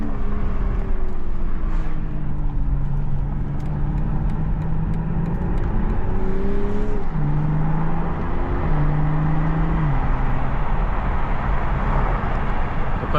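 BMW Z4 M40i sports car with a 340-horsepower turbocharged engine accelerating through gears, a steady loud engine drone with stepped pitch rises and drops at each shift, heard from inside the cabin with constant road noise.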